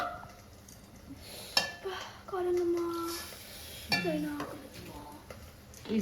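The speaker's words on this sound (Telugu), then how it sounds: "స్టవ్ ఆఫ్ చేసి గిన్నె పక్కన పెట్టుకుందాం" With the stove switched off, a metal cooking pot is set aside in a kitchen. A few sharp clinks and short ringing metallic tones sound close by over a quiet background.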